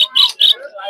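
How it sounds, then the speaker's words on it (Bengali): Budgerigars at a rural bird and pigeon market in Puthia, a few quick, bright chirps in close succession, fairly near and loud. "দেখতে পাচ্ছেন বিভিন্ন ধরনের বাজিগর পাখি এই হাটে"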